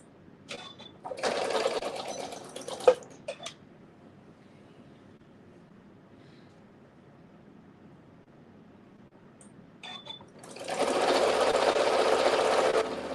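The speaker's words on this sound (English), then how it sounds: "Once I finish sewing on this binding, I will stop and I'll take a break" A sewing machine stitches binding onto a T-shirt quilt in two loud whirring bursts, a short run early and a longer steady run near the end, with quiet pauses between.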